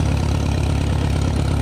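An Allis-Chalmers D17 tractor engine runs steadily at a low, throbbing idle, loud and close, with no other sounds over it.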